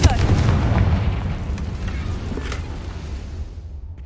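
A Confringo blasting spell explodes in Hogwarts Legacy, one heavy close boom at the start that rumbles and fades away over a few seconds, with faint voice sounds mixed in.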